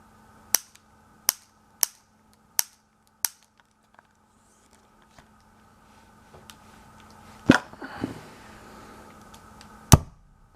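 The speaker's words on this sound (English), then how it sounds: "Here we go, on the right, firing in 3, 2," A homemade gas-powered BB sniper rifle fires, a single loud sharp crack followed by a brief rattle after several earlier sharp clicks and taps, with no talking.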